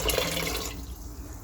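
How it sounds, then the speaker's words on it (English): Water pours into a pressure cooker in a home kitchen, a loud close splashing gush that cuts off abruptly partway through, leaving a faint trickle. "I'll be adding 4 cups of water"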